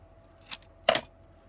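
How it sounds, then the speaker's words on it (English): Scissors cut out a small paper penguin, giving two quick, close snips, the second louder and crisper, in a quiet room. "let me just cut it out quickly"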